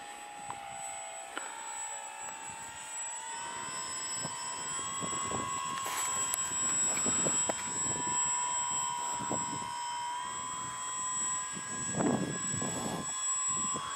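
An RC model airplane's electric motor on its maiden flight, a steady whining hum with harmonic tones that rises slightly as throttle comes up, heard from a distance with occasional wind and handling knocks.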